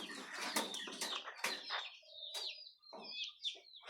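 A small hen clucks close by in a few short bursts of clucks, with light flutters in between and quiet stretches separating them.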